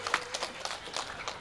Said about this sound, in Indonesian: tepuk tangan untuk ibu-ibu